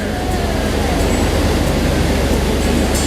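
Water pours down as a ride boat passes behind a waterfall on Disney's Jungle Cruise at Magic Kingdom, giving a constant, loud rushing wash with no talk over it.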